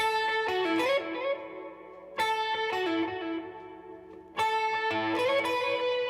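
A distorted electric guitar riff repeats in loud phrases, each starting with sharp attacks and ringing out, with brief dips between.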